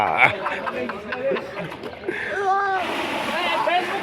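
A person plunges into water during a paid diving stunt watched by spectators, the splashing and churning water heard close under continuous crowd chatter and talking voices.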